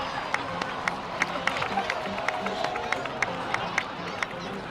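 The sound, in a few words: crowd applause and cheering in a video game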